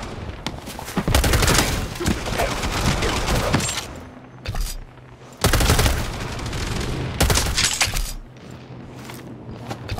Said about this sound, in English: on me! Throwing a grenade!